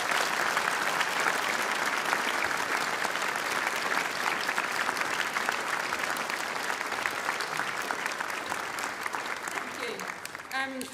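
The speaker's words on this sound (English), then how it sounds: "can I just ask you to applaud all of the support people?" A graduation ceremony audience applauds the support people, sustained dense clapping from a large hall crowd that stays steady and fades slightly near the end.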